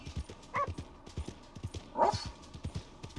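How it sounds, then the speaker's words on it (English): A couple of short dog barks in Red Dead Redemption 2 ring out at moderate distance over steady rhythmic footsteps, fairly quiet overall. "You can hear the dogs barking and the birds chirping."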